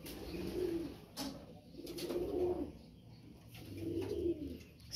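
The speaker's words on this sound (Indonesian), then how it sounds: "kandang ternak merpati balapnya" Soft, low coos from racing pigeons in a breeding loft repeat in three rounded bursts over a quiet background, with a faint bird chirp or two.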